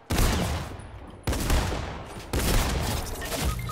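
Gunfire in the video game Fortnite: three loud bursts of rapid shots, each starting abruptly and rattling on for about a second, with no speech over them.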